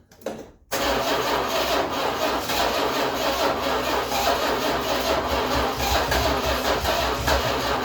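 After a brief cranking, a 1966 Chrysler New Yorker, parked for 18 years, fires up and settles into a loud, steady, rough-edged run close by.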